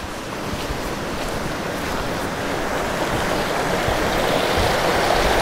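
A stream and small waterfall beside a little bridge on a long-distance walking trail rush with a steady, close, broadband splash that swells slightly louder over a few seconds, with no talking.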